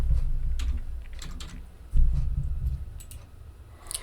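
Typing on a computer keyboard while editing a product entry in a web app, a run of close clicky keystrokes over a low background hum, with some heavier thumps mixed in.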